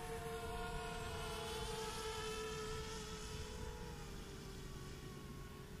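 An Eachine 210 V-tail FPV quadcopter flies with its motors giving a steady, faint, high-pitched whine that holds without a break.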